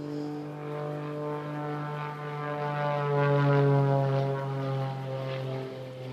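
Aerobatic propeller aeroplane diving at an airshow, pushing toward about 120 miles an hour: a steady, buzzing engine drone that swells louder midway and then eases slightly, with no voices.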